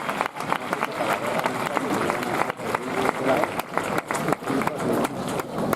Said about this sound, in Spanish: Y se merecen ese fuerte aplauso de todos ustedes.